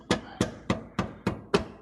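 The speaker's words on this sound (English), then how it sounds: "Use a hammer to try to loosen that up." Six evenly spaced sharp metallic taps of a hammer striking a screwdriver to loosen a differential cover, loud and close, each ringing briefly before the next blow.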